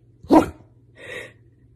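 A pet dog gives a single loud bark on command, followed a moment later by a softer, breathy second sound, with a low steady hum beneath and no talking.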